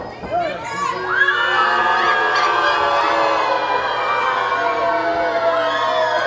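A wrestling crowd at a Rocky Romero match shouts and jeers loudly and steadily, a dense wash of voices that swells after the first second and holds.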